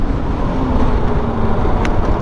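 Road traffic builds up and halts at a checkpoint in a Middle Eastern city, a dense, continuous wash of car and engine noise close by, with a brief higher tone rising near the end.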